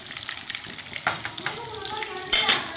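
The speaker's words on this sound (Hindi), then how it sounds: "अब 1-2 मिनट हम इस साइड से पकाएंगे" Kebabs frying in a pan after being turned over, a bright continuous sizzle with bursts of crackle and spatter, close up, with no talking.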